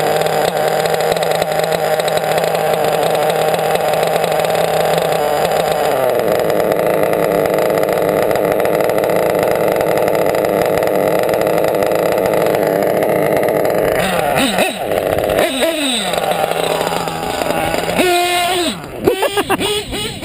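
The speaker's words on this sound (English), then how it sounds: "this engine is too much for this buggy." A small RC buggy engine, a modified RCR 28.8 Rex in an 8x World Champ buggy, drones loudly and continuously with a buzzing, high-pitched tone, revving up and down near the end.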